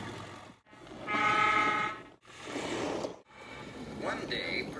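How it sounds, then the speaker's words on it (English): A diesel railway engine sounds its electric horn in a children's train story, giving a sustained, bright honking tone in a few bursts with short gaps, over a busy background. "And diesel engines sound their electric horns"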